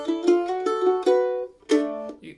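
Close, bright mandolin phrase from Cumberland Gap, old-time style, with spare open strings added: a quick run of plucked notes ringing into each other, a short pause, then a final strummed chord and a light tap.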